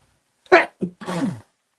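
A single close sneeze with a sharp burst, a short catch and a drawn-out exhale, heard alone in a quiet room.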